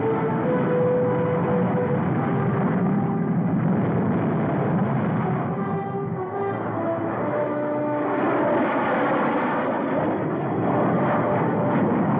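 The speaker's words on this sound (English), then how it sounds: "Unidentified transport planes." Propeller transport planes fly overhead in a 1952 black-and-white film, a loud, steady engine roar filling the whole stretch with faint musical tones beneath.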